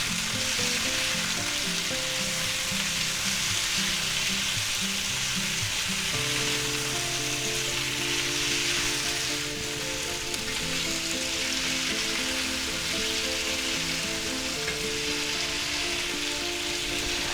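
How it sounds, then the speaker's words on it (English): Vegetables and onions for a pepper steak fry in a pan with a loud, continuous rain-like sizzle and occasional stirring, steady throughout with no talk. "we'll go ahead and put our vegetables in. Wow, that's a lot of them. And we'll stir them around"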